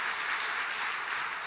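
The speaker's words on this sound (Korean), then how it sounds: "그래서 박수 한번 크게 한번 하십시다" A church congregation claps together during a Korean evening service, a short, even burst of applause throughout, with no voices.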